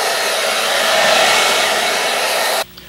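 Hair dryer blowing loudly and steadily over an acrylic seascape painting, a close, even roar that cuts off abruptly near the end.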